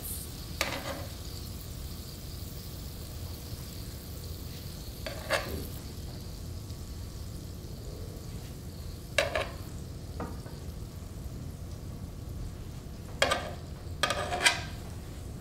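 Steaks sizzle on a griddle in a low, even frying hiss that carries throughout, broken by a handful of sharp scraping or clattering spikes, one near the start, several scattered later, and a pair close together near the end.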